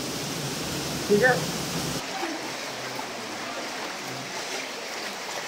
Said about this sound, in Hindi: यहाँ से झरना पूरा वहाँ से आते हुए ये ऐसे यहाँ नीचे गिरता है